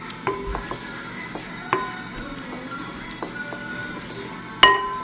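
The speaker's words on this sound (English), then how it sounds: "we'll get a spoon and we'll mix it, we'll stir it up" A spoon stirs lentils in a pot, giving soft scraping with scattered light clinks of metal against the pot, one sharper clink near the end, over quiet kitchen background.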